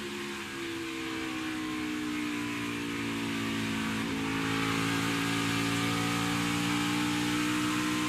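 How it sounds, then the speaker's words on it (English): A NASCAR stock race car engine roars at full throttle on track during 2021 Ally 400 qualifying, a loud, continuous engine drone that rises steadily in pitch over about eight seconds, with no talking. "Riding along board here with Suarez, seeing him fight that car and fight the grip through the 1 and 2"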